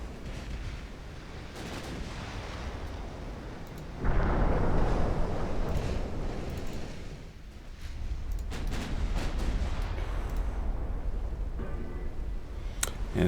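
Heavy 18-inch naval gun shells firing and landing in a Greek extended campaign naval warfare game, a continuous low rumbling roar that surges loudly around four seconds in and again later, with scattered sharper bursts and no voices.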